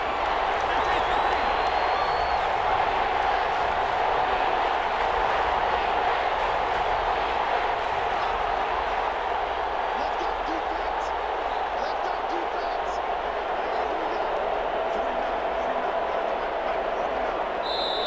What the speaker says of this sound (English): One of the bigger plays in the game thus far, and the crowd getting into it as we come up on a big 3rd down.